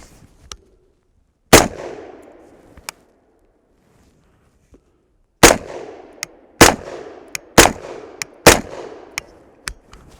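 Suppressed gunshots from a firearm fitted with a Lynx suppressor, one isolated report then a steady string of sharp, loud cracks at irregular intervals, each followed by a brief decaying tail, with no talking.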